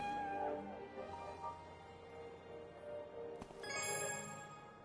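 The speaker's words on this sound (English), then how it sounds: "Hello, kitty cat." A cat meows a few times in a video game, soft and fairly close over a quiet background of ambient game music and tones.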